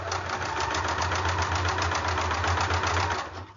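Sewing machine stitching across the fabric of a face mask case, a steady, fast mechanical whirr with rapid needle ticking running loud and continuous nearly throughout, easing off at the very end.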